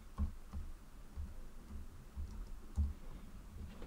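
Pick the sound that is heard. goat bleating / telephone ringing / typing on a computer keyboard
typing on a computer keyboard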